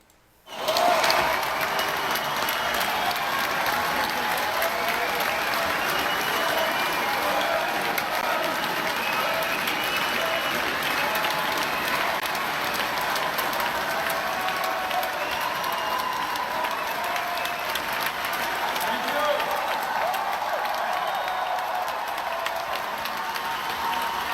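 A large London crowd cheers and applauds Bernie Sanders, a loud, sustained wash of clapping and shouting that erupts suddenly and holds steady throughout.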